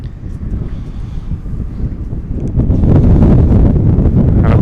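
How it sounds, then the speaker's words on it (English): A gust of wind buffets the microphone at an outdoor high school baseball game, making a low, blustery roar that swells noticeably louder halfway through and then holds steady. "And a big gust there"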